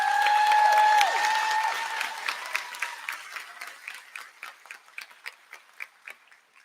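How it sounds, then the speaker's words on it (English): A university convocation crowd applauds the Student Senate President, starting with a full burst of clapping over a fading sustained tone, then thinning to scattered individual claps that die away. "One more round of applause for our Student Senate President."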